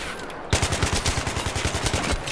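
Automatic rifle fire in Battlefield 3 gameplay: a sharp onset followed by a rapid, evenly spaced burst of loud shots lasting nearly two seconds, close and dominant with no voices over it.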